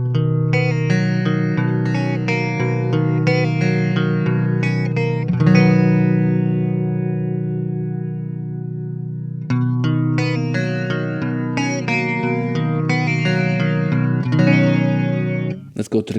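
Electric guitar chords played through a Source Audio stereo chorus pedal on its factory setting, ringing and shimmering with sustained swells and a short pause between phrases.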